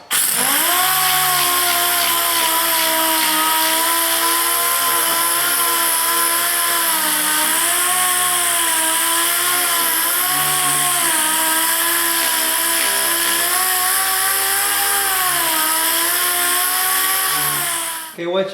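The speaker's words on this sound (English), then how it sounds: "once you got your area sanded with 80 grit, you're going to want to clean it up really good" Power tool sanding a dented car body panel with 80 grit paper, a loud, steady droning whine that holds for about eighteen seconds with slight wavering in pitch before cutting off at the end.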